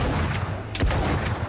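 A single sharp gunshot cracks out in S.T.A.L.K.E.R. GAMMA, fired at a charging mutant, standing out briefly against a low, steady background rumble with no talk.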